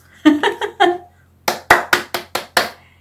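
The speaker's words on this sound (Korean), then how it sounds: "박수" Hands clapping close and crisp, first a quick burst of four claps, then after a brief pause a second run of six sharper, evenly spaced claps, with no talk over them.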